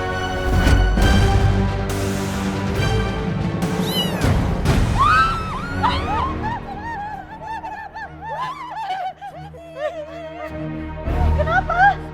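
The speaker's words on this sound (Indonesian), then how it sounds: "Astaga, kucing aja. Cuman kucing" A cat meows several times in rising and falling cries amid other noises and scuffling, moderately close, with no clear talk.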